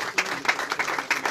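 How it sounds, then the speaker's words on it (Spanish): Audience applause at a ceremony honouring a champion under-14 football team, a short burst of scattered hand claps, fairly close and steady. "un aplauso fuerte entonces para él"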